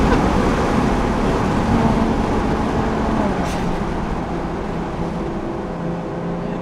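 Ferrari FF with a 660-horsepower naturally aspirated V12 driving the Susten Pass mountain road, giving a steady, loud broadband engine and road roar that runs without a break throughout.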